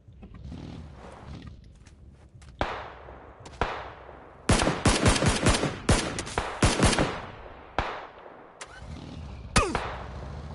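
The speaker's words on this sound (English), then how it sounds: "Who the fuck is shooting at me?" Gunfire crackles through a PUBG match, starting with scattered single shots and building into dense bursts of loud, rapid cracks. Pauses break up the firing, which rises again near the end.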